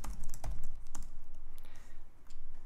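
Rapid keystrokes on a computer keyboard while entering Scheme code, a quick uneven run of close, crisp clicks with no talking.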